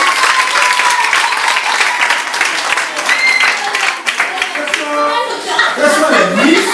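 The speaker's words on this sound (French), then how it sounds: "Applaudissez d'abord pour eux." A school audience applauds at a Miss and Mister Excellence pageant: loud, steady clapping throughout, with voices and a child's chatter mixed in and rising toward the end.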